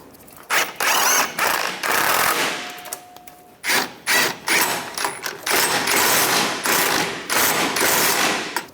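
Rapid mechanical bursts from a power tool or impact wrench tightening two bolts on the mount during a CV axle replacement on a 2007-2013 Mini Cooper, loud and close, with short pauses and some metallic knocks between runs.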